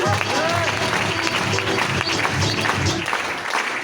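Crowd applause at a stage event, dense continuous clapping filling the room under a faint voice, steady throughout before cutting off.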